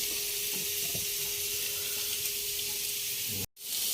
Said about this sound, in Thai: ก็จะเอากุ้งลงไปเลยครับทุกคน นี่นะ ผัดใส่ตะไคร้นะทุกคน